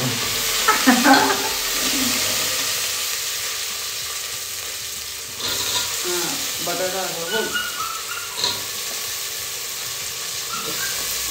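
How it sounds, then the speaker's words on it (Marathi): Onion poha fries for breakfast in a home kitchen, a steady hissing sizzle with stirring and faint voices in the background. "आज कांदे पोहे बनतात सकाळच्या नाश्त्यात"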